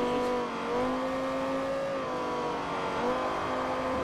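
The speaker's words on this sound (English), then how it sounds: "this is officially the best sounding V10 in the world" A V10 car engine in the Forza Motorsport 4 racing game holds a steady, loud tone with small rises and dips in pitch for about four seconds, without talk.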